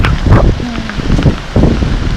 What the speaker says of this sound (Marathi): वारा पाऊस सुटलाय